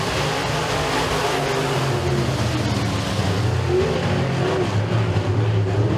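Race cars in a heat race at Eriez Speedway accelerate back to green after a caution, a dense, loud roar of engines building steadily across the field with no voices over it.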